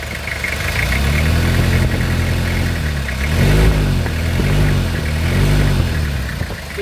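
A 2002 Toyota Kijang LSX diesel engine idles with a steady low rumble, then revs up in three rising-and-falling throttle blips in the second half, close and loud with no talking.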